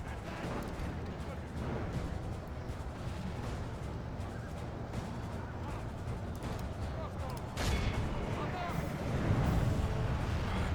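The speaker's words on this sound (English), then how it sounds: "Get back on the artillery there. And keep firing at this one." Artillery fire during a medieval Total War battle against Crusader knights comes through as a dense, continuous rumble of booms and battle noise that grows heavier toward the end, with a voice talking over it.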